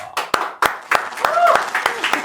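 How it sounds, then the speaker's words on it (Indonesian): A handful of sharp, separate hand claps on a livestreamer talk show, about eight close-up claps in an uneven rhythm while a person keeps talking. "Ya, kasih tepuk tangan."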